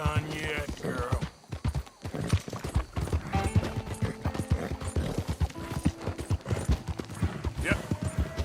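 A horse gallops in Red Dead Redemption 2, with rapid, rhythmic hoof clip-clops that keep up throughout. A brief whinny and other game sounds mix in, over background voices.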